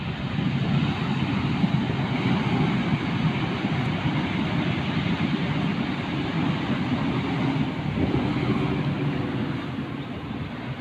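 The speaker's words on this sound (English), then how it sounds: "Is that a train?" A nearby train passes in Glenrowan, making a loud, continuous rumble and rolling clatter that holds steady for the whole stretch with no voices over it.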